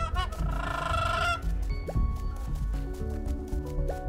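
Honking, chicken-like bird calls from the Flock video game come in short clucks over a busy musical game soundtrack with watery dripping plinks, fairly loud and close.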